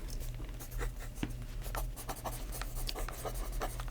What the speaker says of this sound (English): I'm gonna write that down for you.